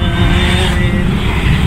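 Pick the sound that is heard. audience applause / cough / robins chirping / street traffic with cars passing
street traffic with cars passing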